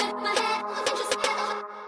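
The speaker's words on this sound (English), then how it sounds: "I've now added a snare pattern so that this drops into the next section of the song" An EDM remix in FL Studio with a snare pattern leading into the next section, sharp repeated snare hits over a bright synth bed at a steady tempo, no voices.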